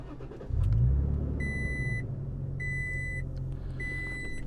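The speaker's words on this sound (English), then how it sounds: "I'm gonna show you what it sounds like when I start my truck" A Toyota Tacoma truck engine starts with a low rumble and settles into a steady idle, while a recurring chime beeps in three evenly spaced bursts over the engine.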